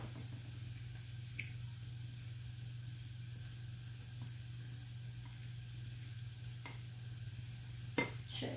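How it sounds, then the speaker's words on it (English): Chopped onions sweat quietly in a pan for pepperoni chicken pasta, a low, steady sizzle running throughout under a constant background hum, with a sharper clatter near the end. "So our onions are still sweating."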